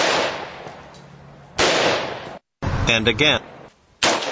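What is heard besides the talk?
gunshots from AR-15 .223 and AR-10 .308 rifles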